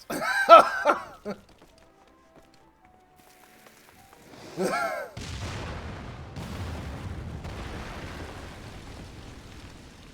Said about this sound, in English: Ah, that was a big explosion.